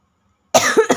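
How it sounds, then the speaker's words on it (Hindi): A single harsh cough from a person with a heavy cough bursts out after a moment of silence, followed by two quick rougher coughs, close and loud. "सॉरी, बहुत खांसी हो रखी है।"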